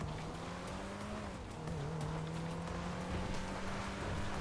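A car accelerating in GTA 5 video game, a steady engine drone rising and shifting in pitch, moderately loud and close, with no talk over it.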